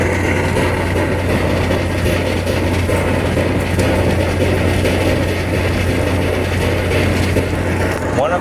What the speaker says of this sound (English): That is the coolest steam engine I've ever seen in my life.